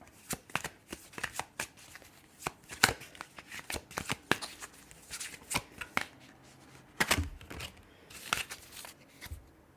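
Oracle cards are shuffled by hand in a quiet room, a long run of crisp, close riffling snaps and flutters in irregular bursts, with no voices.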